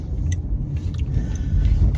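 A car driving, heard as a steady low engine and road rumble that stays fairly even throughout, with faint higher clicks and rattles above it and no one speaking.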